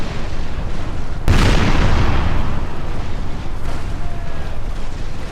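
Warship cannons fire chain shot in a Napoleon Total War sea battle, a single loud booming blast that rolls into a long rumbling decay over continuous background battle noise.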